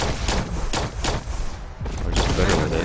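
Bursts of gunfire from a gun in Fallout 4, several sharp shots in quick irregular succession, loud and close, with game noise and a brief lull midway.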